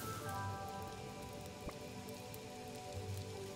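Steady rain patters in the game Wuppo, a dense continuous hiss with a soft low hum beneath, staying even and unbroken throughout.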